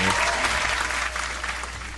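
Enthusiastic applause during a live call-in cipher show, a loud dense burst of clapping that tapers slightly over two seconds, with a low hum beneath.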